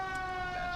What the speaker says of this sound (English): Set up a different siren.